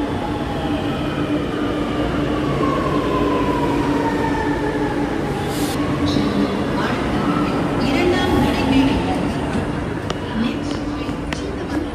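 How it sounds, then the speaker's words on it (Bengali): A metro train pulls into an underground station, its steady rumble and whining motor tones sliding in pitch as it slows, with faint squeals and hiss throughout; a voice talks over it. "এই যে ট্রেনটা ঢুকছে দেখুন কি সুন্দর।"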